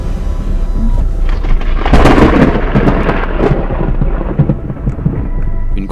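A violent thunderstorm breaks directly overhead on the Spanish coast, heavy rain drumming steadily while loud, close thunder rumbles and crackles through the middle before easing back into the downpour.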